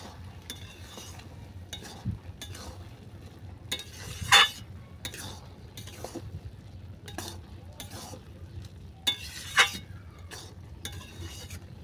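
Mango pulao being mixed with ghee in a pan, a spoon scraping and stirring the rice in soft repeated strokes with a few sharper clinks of metal on the pan, faint sizzling underneath.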